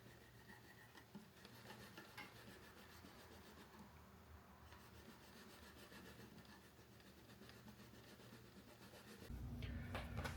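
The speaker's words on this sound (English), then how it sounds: "I just finished polishing all those 24 frets" Electric guitar frets on a G&L USA semi-hollow ASAT Deluxe are polished by hand, a very faint, steady scratchy rubbing made of quick repeated strokes that continues throughout.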